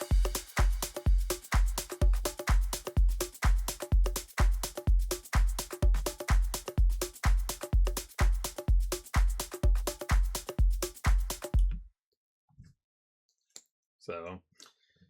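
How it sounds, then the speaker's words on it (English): Organic house style percussion loop programmed in FL Studio for melodic progressive house, with steady rhythmic kick and layered percussive hits repeating for about twelve seconds, then stopping abruptly, followed by a brief faint voice. "adapt basically organic house percussion into stuff that will work with prog house"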